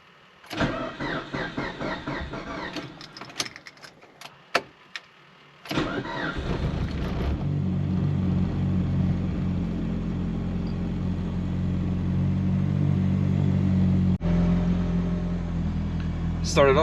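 A Mitsubishi Evo running on E85 cranks briefly and fires up, then settles into a steady, fairly loud idle. Someone talks over the quiet stretch just before the start.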